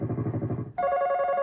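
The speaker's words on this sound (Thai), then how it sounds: "เสียงโทรศัพท์นะครับ" A telephone-ring effect from a Pastel Siamkey1 keyboard played through a sound system: a brief pulsing burst, then a steady electronic ringing tone, short and fairly loud.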